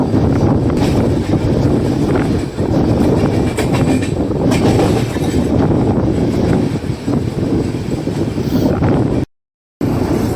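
Kerala Express sleeper-class train running on rails near Coimbatore Junction, a loud continuous rumble and rattle of wheels and carriages with clickety-clack and wind rush, steady throughout before a brief cut to silence near the end.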